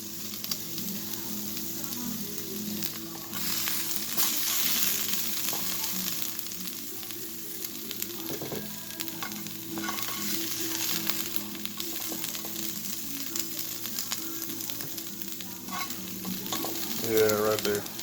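Venison backstrap fries in a pan, sizzling steadily at moderate loudness with occasional stirring and scraping, and no voices over it.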